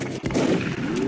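A gunshot fired in the turn-based strategy game XCOM: Enemy Unknown: a sharp crack followed by a booming, rumbling tail that rings on at close range.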